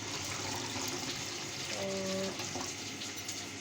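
Tap water runs steadily into utensils in a home kitchen, a continuous close hiss of filling with a brief clink of metal near the middle.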